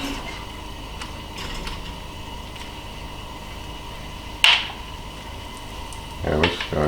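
Baked chicken pieces being turned in a pan with tongs and a fork, with faint scraping and light clinks over a low steady background, then a sharp metallic clank and a later rattle of utensils against the pan.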